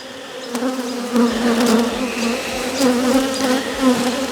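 Honey bees buzz steadily in a barrel hive during a comb transfer, a dense close drone swelling and easing in waves with no voices.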